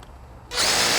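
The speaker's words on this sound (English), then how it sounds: "We're all safe to drill." Power drill biting into brick during a Madison box termination, brief quiet, then the motor kicks in at half a second and runs loud and steady to the end.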